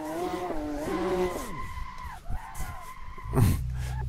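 Porsche GT2 RS MR spinning out on a Portugal race track, tires squealing in long shrieking skids over a droning engine, then a louder burst of tire noise near the end.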